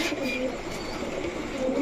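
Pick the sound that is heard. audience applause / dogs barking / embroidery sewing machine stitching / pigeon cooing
pigeon cooing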